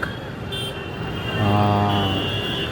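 Road traffic in the Jarampur colony area heard from a rooftop, a steady wash of engine and road noise with a brief horn-like tone, fairly close and continuous.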